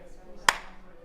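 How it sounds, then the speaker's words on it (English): An audience at an artist talk claps once in unison, a single sharp, loud burst that fades quickly against a quiet room. "I just want you to clap."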